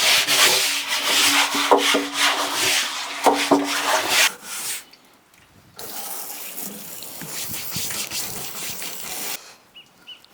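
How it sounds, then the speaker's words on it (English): A brush scrubs the cedar base of a hot tub with rough, rhythmic rubbing strokes, close and fairly loud, then stops briefly before a softer, steadier stretch of wet scrubbing resumes. "Once you've given everything a good little scrub"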